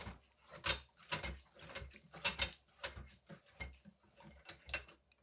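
A FOX Factory FLOAT X rear shock damper being clamped into a bench vise, heard as a series of close, sharp metallic clicks and ratcheting clanks in irregular bursts, with no talking.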